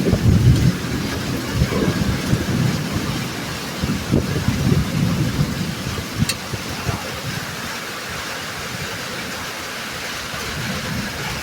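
Thunderstorm with steady heavy rain and rolling low thunder during an outdoor Fourth of July cookout, a continuous loud wash with deep rumbles swelling near the start and middle.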